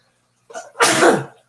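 A single sharp human sneeze, close and loud: a brief intake followed by a forceful burst, with silence on either side.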